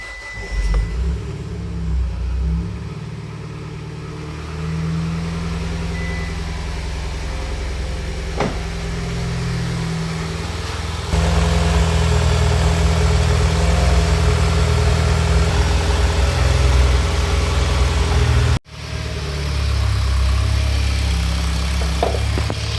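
A serviced Mitsubishi Lancer Evolution X engine idles steadily close by, a low rumbling hum that swells a little louder partway through and dips for a moment near the end, with no talk over it.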